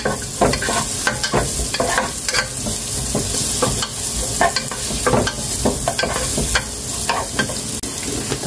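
Onions and garlic fry in a pan for a soup dinner, a steady loud sizzle running throughout with frequent scraping stirs and clinks of a utensil against the pan, no talking.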